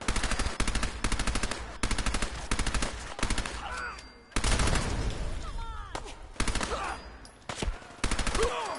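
Raider gunfire in the video game Fallout 4, with rapid automatic bursts and single shots repeating across the whole stretch, loud and close, mixed with in-game effects and a faint voice.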